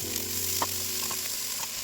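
Onions hitting hot oil in a pan give off a steady, close hiss and sizzle, with faint clinks as they settle, and nobody speaks.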